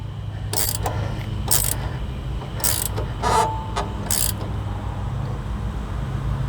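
A ratchet tightens the sway bar end link nut on a 2011 GMC Sierra, giving several short, sharp bursts of clicking close up over a steady low background hum, with no talking.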